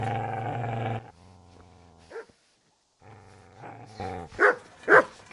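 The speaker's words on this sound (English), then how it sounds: "Get away, you mutt!" A dog in the Kingdom Come video game lets out a low, drawn-out growl, then a few sharp, close barks after a short pause.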